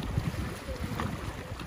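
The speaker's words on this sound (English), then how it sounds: "Here comes our boat" Boat on a lagoon in a Mexican nature reserve near San Ignacio, heard as a low, faint engine rumble mixed with wind buffeting the microphone, with no talking.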